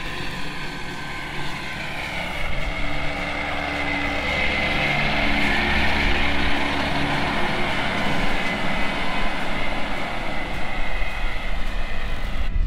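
A tractor with a rotary mowing head cuts a field, giving a steady loud mechanical drone with whirring blades that swells slightly and holds for several seconds, with no talking.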